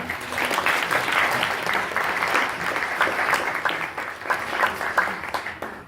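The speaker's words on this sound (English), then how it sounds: "I'll give Randi a round of applause" An audience at an International Mother Language Day cultural event applauds an Indigenous dancer, a full, steady round of clapping lasting several seconds with lively bursts toward the end.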